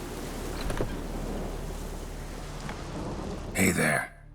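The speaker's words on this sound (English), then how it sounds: "Of course it would be raining here." Steady rain falls throughout a rainy scene at a herbalist's hut in The Witcher 3: Hearts of Stone, a constant wash of patter with a louder gust of water or movement near the end.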